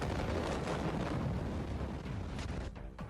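Massive 2020 Beirut port explosion captured on a mobile phone, heard as a sustained roaring, rumbling blast with heavy wind-like buffeting throughout, loud and distorted, tailing off slightly near the end.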